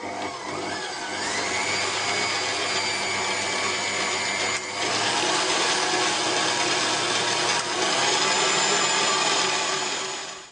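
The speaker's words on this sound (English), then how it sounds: "Just put on your whisk attachment, or if you're just using a hand mixer, just whisk this until the gelatin dissolves." An electric mixer with a whisk attachment whirs steadily and loudly while whisking gelatin for candy conversation hearts, a continuous motor drone with brief dips in pitch and no talking.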